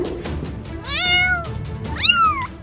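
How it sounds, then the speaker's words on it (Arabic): Young foster kittens let out two clear, rising meows close by, a shorter cry followed by a louder, higher one, with soft rustling between them. "قطط تحتاج مساعدة."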